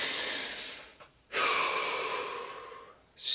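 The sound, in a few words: deep breath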